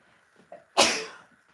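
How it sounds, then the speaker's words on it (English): A single sharp, loud sneeze bursts out close by from a person working at a sewing machine, preceded by faint rustles and followed by quiet room tone. "Sorry, I'm going to sneeze."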